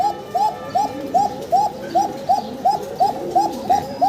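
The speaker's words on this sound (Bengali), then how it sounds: "ককার ডাক শুনতে পাচ্ছেন" Koka fancy pigeons coo close by in a steady, evenly paced series of about a dozen soft, rolling calls, one after another with short gaps.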